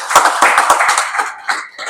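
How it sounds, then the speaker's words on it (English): An audience applauds the Minister at the trailer launch of 'Wild Tamil Nadu', with dense, steady clapping that is close and loud, thinning into a few scattered claps near the end. "a big round of applause for the Minister"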